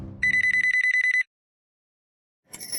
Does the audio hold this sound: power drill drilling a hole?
no